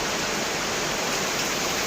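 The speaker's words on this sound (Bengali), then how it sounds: "আমাদের এখানে দেখো কি প্রচণ্ড বৃষ্টি" Heavy monsoon rain pours onto a balcony that is filling with water, a dense, steady rushing hiss with no breaks, close by and fairly loud.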